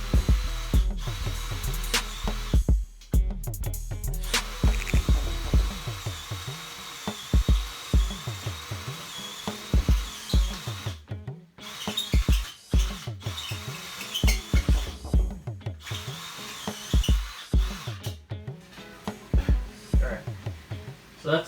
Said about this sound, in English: So now I'm just going to use a unibit on this.